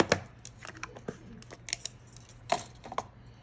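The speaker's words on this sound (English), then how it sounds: "And I'm going to cut both of them." Scissors snipping through two small paper scraps for gift card holders, a run of short crisp cuts heard close and fairly quiet with no talking.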